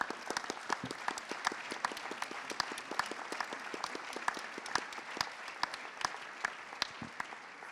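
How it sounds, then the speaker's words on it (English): Sustained audience applause fills a plenary session hall, dense steady clapping from many hands with sharper individual claps popping out, moderately distant and unbroken throughout. "A big applause and thank you for your attention."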